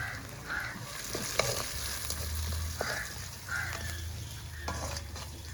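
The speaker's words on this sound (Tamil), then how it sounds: "உப்பு போட்டோம்னா டக்குன்னு வதங்கிடுவாங்க வெங்காயம்" Onions fry with salt in a pan, a steady close sizzle and hiss with occasional scraping stirs and clinks from a utensil, no talking.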